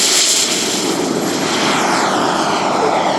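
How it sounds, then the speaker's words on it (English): An RC scale model Viper jet sounds on the flying field at a jet meet, a loud, continuous turbine roar with a steady high whine and no pauses. "we have a Viper jet on the field"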